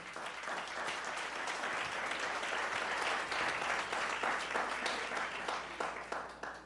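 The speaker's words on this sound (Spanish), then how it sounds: "Denle un aplauso a Dios." Congregation applause during a church sermon, sustained dense clapping from a large crowd, loud and continuous for several seconds before tapering slightly.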